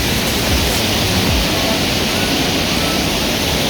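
A waterfall in Munich gives off a loud, steady, broadband rush of falling water that fills the whole clip without pause.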